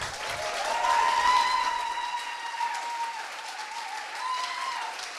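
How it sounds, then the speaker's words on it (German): A science slam audience applauds as a speaker is welcomed onto the stage, a steady crowd clapping that swells early and then holds at a moderate level, largely free of talk. "wir holen auch sie noch mit einem großen Applaus auf die Bühne"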